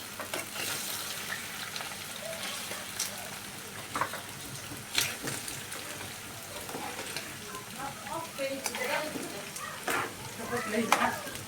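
Roasted vegetables stirred in hot oil for a chicken wrap, a steady close sizzle broken by repeated scraping stir strokes and clacks throughout.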